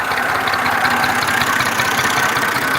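A 2013-model NF 240 tractor idles in a Punjab village with a steady, close, even engine rumble and a faint knocking rhythm, with no talk over it.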